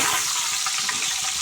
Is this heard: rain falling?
no